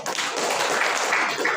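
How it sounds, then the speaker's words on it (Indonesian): Audience applause at an Indonesian school good-practice outreach session, a steady wash of clapping from a crowd that fills the whole short stretch at even loudness, with no voices standing out. "Tepuk tangan untuk saya."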